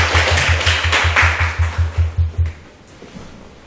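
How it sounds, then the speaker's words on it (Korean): An audience at an academic society conference applauds in a loud, evenly paced run of sharp claps in near unison, which fade into quiet room tone. "박수로 모시겠습니다."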